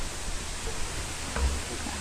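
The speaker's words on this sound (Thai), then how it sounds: "มีน้ำตกได้ยินเสียงน้ำตกจำลอง" An artificial waterfall at a cave temple produces a soft, steady rush of falling water, a faint continuous hiss with a brief low thump in the middle.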